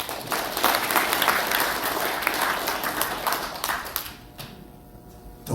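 Audience applause welcoming a speaker at a formal launch ceremony in a Seoul press center hall, a dense sustained clapping from a crowd that runs about four seconds, then thins and fades out near the end.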